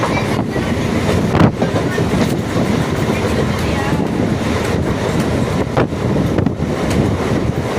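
A train rolls across the Kaveri bridge near Tiruchirappalli, a loud steady rumble with wind buffeting the microphone and rhythmic clatter, while someone talks over it.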